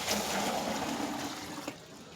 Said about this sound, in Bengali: তাতে প্রথমে 10 লিটার জল নেওয়া হলো।